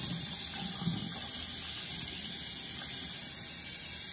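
Hot water running from a tap during hair washing while making a wig, a continuous steady rush of water close by with no speech over it.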